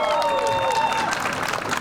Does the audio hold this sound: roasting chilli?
no